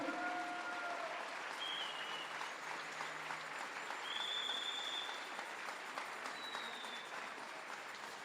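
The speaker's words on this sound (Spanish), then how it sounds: "Alguien dele palmas al Hijo de Dios." A church congregation claps through a sermon, a steady, fairly distant patter of many hands lasting several seconds, with faint whoops rising over it.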